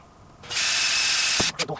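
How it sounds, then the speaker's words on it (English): A power drill boring a hole during winch wiring on a Polaris RZR 800. It makes one steady high whine for about a second, then cuts off with a couple of short clunks. "we're just going to drill as good as I can"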